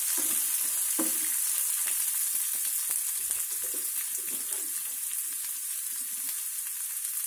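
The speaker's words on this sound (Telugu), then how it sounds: "మనకి పోపు వేగుతుంది కదా, ఆనియన్స్ వేద్దాము." Onions and spice tempering fry in hot oil for a Malabar spinach yogurt chutney, giving a steady close sizzle with light stirring scrapes and no talk.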